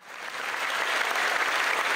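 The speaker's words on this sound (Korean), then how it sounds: "HWPL 이만희 대표님께 다시 한번 큰 박수 보내주시기 바랍니다." Audience applause at the 7th anniversary ceremony of the HWPL 9.18 World Peace Summit, a dense, steady clapping that swells in the first moments and then holds loud and even throughout.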